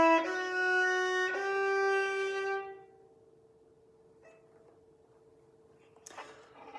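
A bowed string instrument plays a single sustained note with full, weighted fingers, rich and resonant for nearly three seconds, with a brief re-bow partway through, then decays into a faint lingering tone; a light knock follows near the end.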